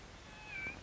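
A cat gives a single short, faint meow indoors against a quiet background, with no one talking.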